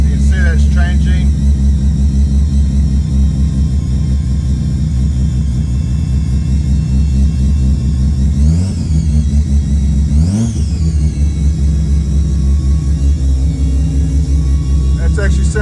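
A Bridgeport-ported Mazda RX3 13B rotary turbo engine, running rich and smoky, idles loud and close with a steady rough rumble, rising in two brief revs partway through.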